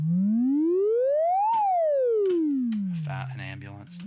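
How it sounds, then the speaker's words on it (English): An Ensoniq ESQ1 synthesizer sounds a siren-like tone that glides smoothly up and then back down in a single sweep, loud and alone, before a voice briefly speaks over a low held note. "I was messing with trying to create a siren,"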